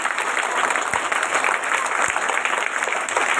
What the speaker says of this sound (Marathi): जोरात टाळ्या वाजल्या पाहिजे.